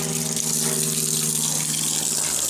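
Tap water runs steadily into refillable drinking bottles inside a camper van, a close, continuous gushing flow with no talking.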